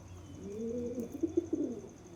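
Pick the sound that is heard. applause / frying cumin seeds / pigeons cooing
pigeons cooing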